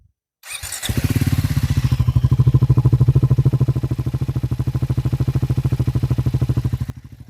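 A Triumph Scrambler 400X motorcycle starts up and settles into a loud, steady exhaust idle with an even, rapid thumping pulse, close and alone for several seconds.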